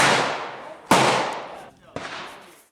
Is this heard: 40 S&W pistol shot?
yes